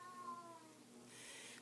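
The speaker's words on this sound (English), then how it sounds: "That was my cat meowing." A house cat lets out a faint meow in the background of a quiet indoor room, brief and soft.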